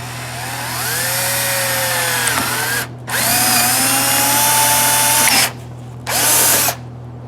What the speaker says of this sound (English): So we're gonna drill a couple of holes here